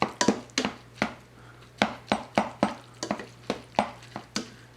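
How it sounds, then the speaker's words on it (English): Butter being mixed into mashed cauliflower, a spoon or masher knocking rhythmically against the pot in a steady series of close, sharp taps and scrapes with no talking. "now we're just going to get all that mixed up good, get the butter"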